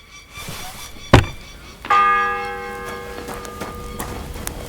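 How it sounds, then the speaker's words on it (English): A single church bell stroke in the video game Kingdom Come: Deliverance 2 rings out loud and near after a sharp thunk, its tone slowly fading. "The first bell."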